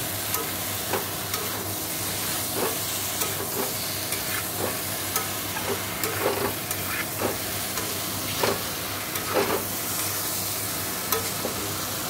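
Prawns sautéing in a hot frying pan, a continuous hissing sizzle with repeated scraping stirs of a utensil spaced every second or so, steady and close.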